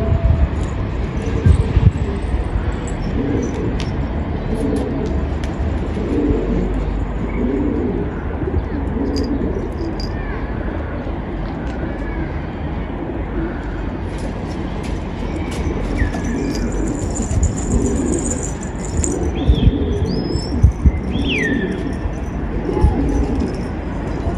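Pigeons in a loft coo and flutter while feeding, a steady close bed of cooing with occasional chirps and sharper calls over continuous background noise, with faint talk now and then.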